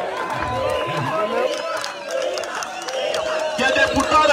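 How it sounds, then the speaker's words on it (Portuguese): Crowd at a political rally in Kimbele, Uíge province, Angola, a steady hubbub of cheering, shouting and scattered clapping that rises toward the end. "Aqui eu peço muitas palmas"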